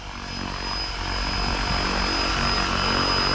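An RC helicopter hovers close by as it comes in to land, its rotor and motor giving a steady loud whine that swells slightly.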